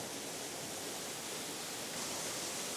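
Waterfall pouring steadily, a dense, even rush of water close by, constant and loud with no other sounds.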